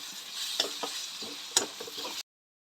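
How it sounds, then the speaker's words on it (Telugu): Chicken fries in a pan with ginger garlic paste, a close sizzle broken by stirring clatter and a couple of sharp ticks, ending abruptly in silence. "అల్లం వెల్లుల్లి పేస్ట్ చాలా కొద్దిగా ఫ్రై అయిన తర్వాత చికెన్ వేసి"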